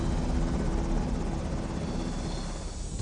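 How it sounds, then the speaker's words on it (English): Helicopter lifting off a ramp and departing north, a steady loud rotor and engine roar filling the whole stretch with a dense broadband wash, slightly easing toward the end. "Helicopter 32 Alpha Tango is on the go off the ramp"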